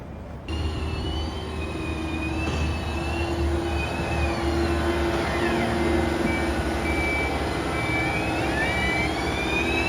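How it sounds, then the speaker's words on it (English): A large robotic tractor's engine drones steadily and loudly throughout as it drives, with a constant mechanical hum and a faint high whine, no talking. "here's us playing with the robotic tractor"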